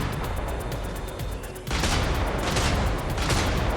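Dense, continuous machine gun fire from the Brigador video game, a loud unbroken rattle of rapid shots that jumps even louder partway through and keeps going without a pause.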